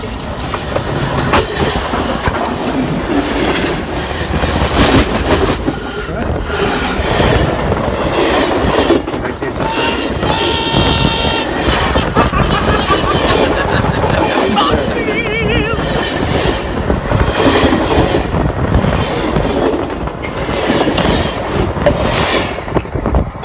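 A train rolls past on the tracks, loud and close, with heavy rumble, rhythmic clickety-clack from the wheels and bursts of squealing metal, continuing throughout with no speech over it.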